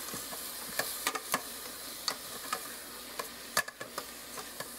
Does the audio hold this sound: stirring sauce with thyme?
yes